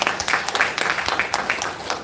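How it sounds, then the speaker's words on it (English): An audience applauds during a wellness business event, with dense, fairly close clapping that carries steadily for two seconds. "All right, a hand of applause to our Jenny Ma."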